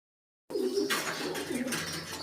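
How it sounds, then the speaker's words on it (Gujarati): After a moment of silence, pigeons sitting in a loft break into low, overlapping coos, a steady murmur close by with some scuffling and rustle layered through it. "કબૂતર જોઈ શકો છો તમે બધા કબૂતર બેઠા છે"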